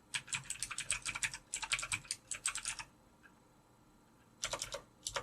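Fingers tap quickly on a computer keyboard in close, crisp bursts of clicking keystrokes, pausing for about a second and a half before a final short run resumes; no voices.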